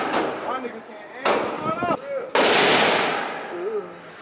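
Gunfire at a shooting range using guns fitted with 3D printed parts: three sharp reports in quick succession, each with a decaying tail, loud and close, while people chatter excitedly in between and over them.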